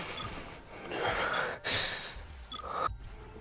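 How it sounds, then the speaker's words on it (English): A character in the Love and Deepspace video game breathes loudly and heavily, drawn-out gasps and exhales in a steady stream with one sharp break partway through, and no speech. "Is this breathing just super loud in your car speakers?"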